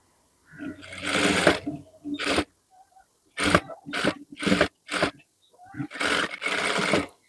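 A sewing machine stitches a fabric sleeping mask in short runs of rapid mechanical whirring, a couple of longer bursts followed by several quick stop-start pulses, close and fairly loud with pauses between them.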